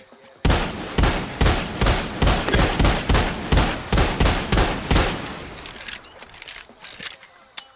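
A unique rifle in the shooter Far Cry 6 fires a rapid, steady string of loud shots at a vehicle, about fifteen reports in quick rhythm, then trailing echoes and quiet mechanical clicks as the firing stops.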